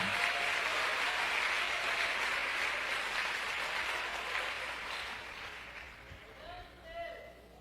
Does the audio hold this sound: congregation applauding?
yes